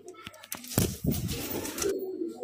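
A male Giribaz high-flyer pigeon coos in low, throaty bursts close by, alongside handling noises and brief clattering in a loft.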